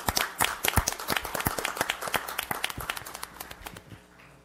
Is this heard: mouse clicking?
no